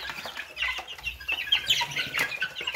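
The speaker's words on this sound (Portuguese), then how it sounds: "Essa remessa aqui de pintinho de gigante que chegou aqui no criatório." A new batch of about 26 Índio Gigante chicks in a breeding pen peep continuously, many high chirps overlapping close by.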